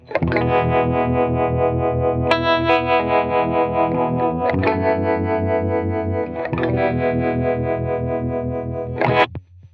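An electric guitar plays through a pedal's 61 harmonic tremolo mode, giving sustained, distorted chords with a pulsing, wavering texture. The chords shift a few times, loud and steady, with no talk.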